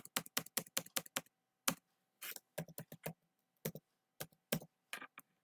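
Someone types a word into a search box on a computer keyboard, producing crisp, close keystroke clicks in quick irregular runs with short pauses between them.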